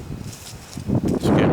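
Wind buffets a microphone outdoors in low, uneven gusts that swell louder toward the end, with faint rustling in the background.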